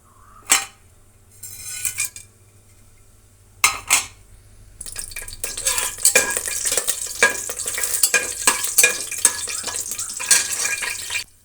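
Whole spices such as cloves and cinnamon crackle and sizzle in hot oil, starting with a few sharp bursts of clinking and then a steady loud frying hiss with stirring.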